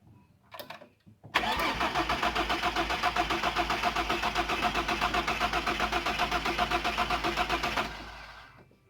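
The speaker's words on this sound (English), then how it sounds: "Now we'll give it a bit of a start up and hopefully should make some cool spoolie boy noises." A turbocharged, LPG-converted Barra straight-six car engine cranks after a few faint clunks, then catches and settles into a steady, close idle for several seconds before shutting off. No one speaks.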